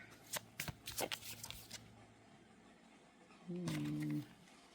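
Quick papery riffles of cards being shuffled in short bursts, followed by a brief higher-pitched tea kettle whistle near the end.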